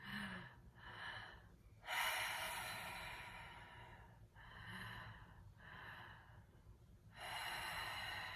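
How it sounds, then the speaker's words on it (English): A person breathes deeply, with two inhales followed by a long exhale through the mouth, then the cycle repeats. The breaths are close, soft and airy against a low steady background hum, with no speech. "1 inhale through the belly, 1 inhale through the chest, exhale through the mouth"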